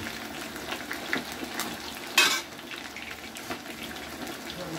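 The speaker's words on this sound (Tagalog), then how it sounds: "So magprito lang tayo." Chicken wings for homemade Buffalo wings frying submerged in plenty of oil, a steady close sizzling crackle with one brief louder burst of spattering midway, no voices.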